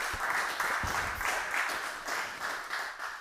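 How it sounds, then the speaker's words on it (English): Small live audience at a handball Champions League draw event applauding, a steady, close patter of many hands clapping in a loose rhythm, moderately loud and unbroken throughout, with no talk over it. "You're very welcome to applaud."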